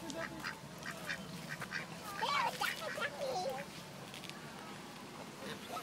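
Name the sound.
ducks quacking while being fed bread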